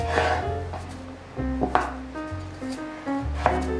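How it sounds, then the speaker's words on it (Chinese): A knife chops through a halved red carrot on a cutting board, producing a few distinct, close thuds spaced about a second apart with no talk. "红萝卜切一半"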